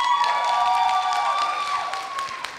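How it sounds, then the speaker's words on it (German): Audience applause after a Para Para dance group's stage performance at the Animaco 2012 anime convention: steady, dense clapping from a hall crowd, with faint sustained tones running underneath, gradually thinning toward the end. "Ein Applaus für euch."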